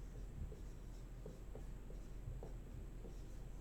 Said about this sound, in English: let me write that back up here